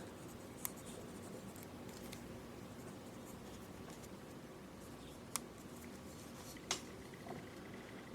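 Pencil marking on a wood carving of a snoring moon face: a steady, soft scratchy scribbling that runs throughout at close range, broken by a few small sharp taps and clicks.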